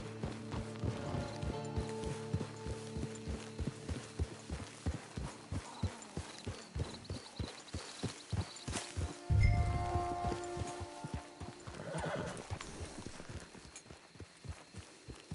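Steady clip-clop of horse hooves trotting along in the video game Red Dead Redemption 2 Online, rhythmic and close, with a brief louder thump partway through and faint background ambience.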